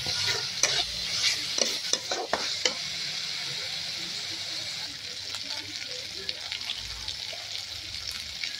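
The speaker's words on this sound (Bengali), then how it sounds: "তো আমার মশলাটা কষা হয়ে গেছে" Spices for a papaya and potato curry stirred and fried in a pan, with a soft, steady sizzle and a few sharp scrapes of the spoon early on. The sound is close and fairly quiet.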